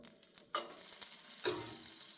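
A pat of butter hits a hot pan and sizzles, with two quick bursts of hiss close by, each settling into a soft, continuous crackle over about two seconds.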